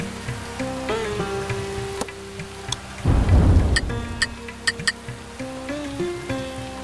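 Rain patters steadily and a single deep thunder rumble rolls in midway in the video game The Settlers, with soft tonal game sounds and clicks around it.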